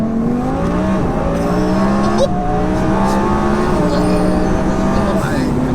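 A 1200 bhp twin-turbo Audi R8 pulls hard in second gear, its engine droning loud and steady with rising harmonics inside the cabin while people talk over it.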